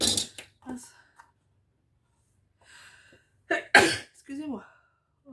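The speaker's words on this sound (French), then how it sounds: "J'ai envie d'éternuer." A single sharp, close sneeze bursts out after some quiet breathing and a few soft vocal sounds, followed by brief speech.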